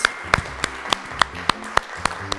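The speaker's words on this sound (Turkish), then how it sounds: "Alkışlar gönderiyoruz." Audience on a children's inventors' game show claps in a steady, rhythmic beat, with about nine sharp, distinct claps spaced evenly over a couple of seconds, moderately loud and without talk.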